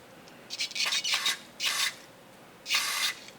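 Solvent sprayed from a can onto lathe ways in a workshop, three short hissing bursts with brief pauses between them, close and fairly quiet.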